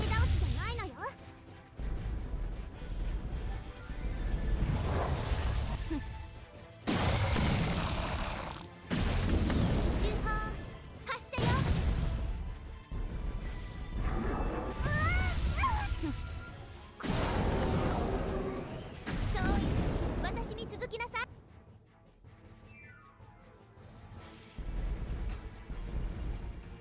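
Heavy cannon booms in the mobile video game Abyss Horizon go off repeatedly in irregular bursts, separated by short pauses, with voices speaking between the blasts.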